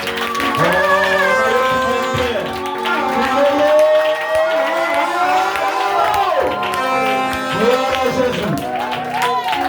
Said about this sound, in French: Tu as acclamé pour toi, mais acclamons pour Jésus maintenant